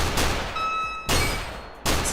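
Gunfire in an online shooter game: three sharp broadband bursts, the first two separated by a ringing tonal hum, the last cutting in abruptly near the end, loud and close with no talking.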